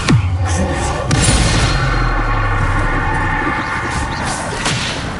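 Incendio and Levioso spell effects from Hogwarts Legacy, loud whooshing blasts and booming impacts, with a sharp hit near the start and another about a second later over continuous crackling game action.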